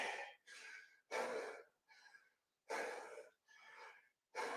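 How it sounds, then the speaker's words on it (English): Heavy, labored breathing up close after a bodyweight HIIT workout: a series of loud, rhythmic inhales and exhales with short pauses between breaths, no talking. "nothing but that heavy breathing at the moment"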